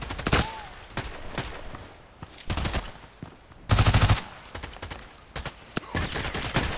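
Magpul PDR-C SMG fires in the Contract Wars video game, short rapid bursts of automatic gunfire separated by brief pauses, loud and close with no talking.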